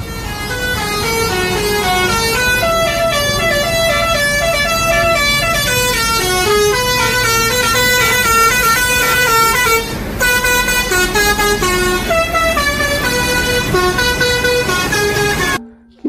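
The Restu Panda bus blasts a loud, melodic multi-tone musical horn that plays a continuous tune of shifting notes for about fifteen seconds, with a brief break midway, before stopping suddenly.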